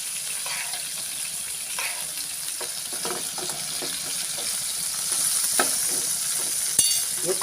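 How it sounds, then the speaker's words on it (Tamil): Masala fish frying in hot oil in a pan, with oil spooned over the top, giving a steady close sizzle and crackle with light scraping and stirring clicks throughout. "ஒரு ஸ்பூன் வச்சு எண்ணெய் இருக்குல்ல, எடுத்து அப்படியே மேலே ஊற்றுறது."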